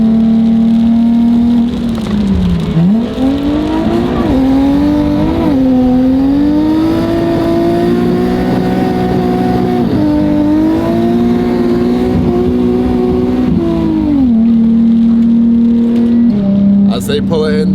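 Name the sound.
drift car engine revving with a slipping clutch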